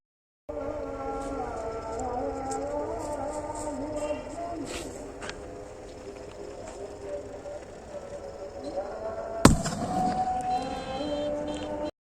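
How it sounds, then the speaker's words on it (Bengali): A homemade firecracker goes off in an open field as one sharp, loud crack that cuts through steady outdoor background noise and faint voices, then fades quickly. "এখানে দেখছেন এটা কত সুন্দর ব্লাস্ট হলো"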